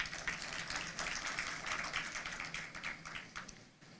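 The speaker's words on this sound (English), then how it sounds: "I think you deserve a round of applause" Audience applause at a formal judiciary event, a dense, even patter of many hands clapping at low volume that gradually tapers off.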